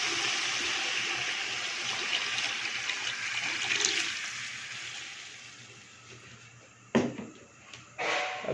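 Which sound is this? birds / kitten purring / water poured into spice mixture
water poured into spice mixture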